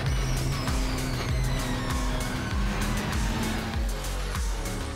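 Several race cars battle closely for position at Monteblanco circuit, engines roaring loud and continuous with rising and falling revs, gear shifts and passing bursts, no talk.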